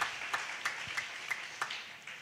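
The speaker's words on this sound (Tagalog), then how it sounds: "Isang malakas at matunog na palakpak sa ating mahal na Panginoon." Church congregation applauding at a preaching service, a faint, thin patter of clapping with a few sharper claps standing out at an even pace, heard from a distance.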